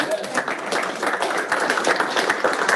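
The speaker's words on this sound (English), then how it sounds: "So everybody give Alex Moore a round of applause" A team meeting audience gives a round of applause for a colleague, dense steady clapping from several people close by, fairly loud throughout.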